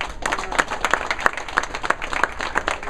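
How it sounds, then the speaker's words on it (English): An audience at a community peace breakfast in Brooklyn claps for a local leader, with individual hand claps standing out as sharp, fairly regular beats over a lighter spread of applause, moderately near. "We should give him a round of applause"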